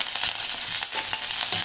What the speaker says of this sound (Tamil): அப்புறம் கருவேப்பிலை, இஞ்சி, பச்சை மிளகாய் அதையும் போட்டுக்கலாம்.